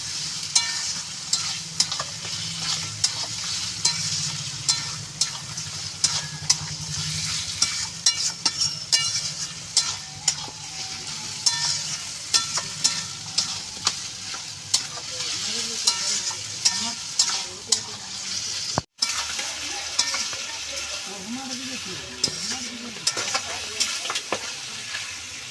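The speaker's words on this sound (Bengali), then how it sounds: "আমি মাংসটা একটুখানি নাড়াচাড়া করে নেব।" Pieces of goat mutton are stirred through a frying spice masala in a pan, with repeated near scrapes and clinks over a continuous sizzle. No one speaks.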